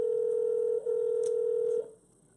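Telephone tone on a live call placed to book an appointment: a steady single pitched tone with one brief break, then it cuts off abruptly near the end, heard close and alone.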